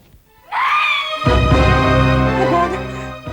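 A woman screams in a TV crime drama, a sudden shrill cry that rises and sustains, then swells into a louder, harsher wail with rich overtones, close and intense, with no talk over it.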